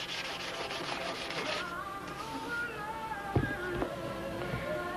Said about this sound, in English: sanding out the clear